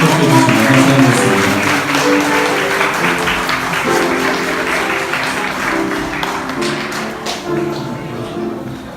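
Wedding guests at a Korean church ceremony clap for the bride and groom as they step up to the platform, steady close applause with taps and thumps over a busy room, with voices mixed in.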